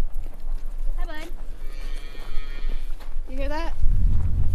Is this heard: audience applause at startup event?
no